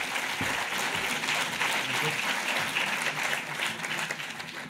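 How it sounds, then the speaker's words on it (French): Warm, steady audience applause at a patronage forum plenary greets a speaker walking on stage, filling the room evenly and tapering slightly at the end. "Vous pouvez l'applaudir chaleureusement."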